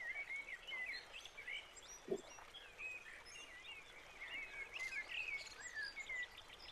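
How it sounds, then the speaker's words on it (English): Forest birds sing steadily, their many overlapping chirps and trills carrying through the canopy at moderate distance. A soft low thud breaks in once midway, and no one speaks. "listening to the birds"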